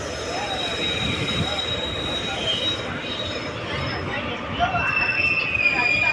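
A passenger train running from Karur to Tirunelveli rumbles steadily on its rails, with wheels squealing faintly and muffled voices carrying through the carriage.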